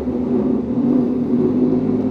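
Motorcycle engine running at a dyno shop, a Honda CBR1000RR-R Fireblade SP, heard as a loud, steady low droning hum that holds constant without distinct rev peaks.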